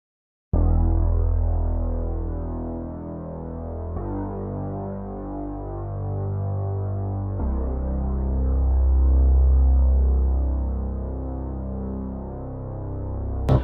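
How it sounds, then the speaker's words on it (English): Low synth bass called Funky Film and Bass from the Expand instrument, playing sustained deep humming notes that change pitch every few seconds, with no voices. "And then this last sound we have is a low bass."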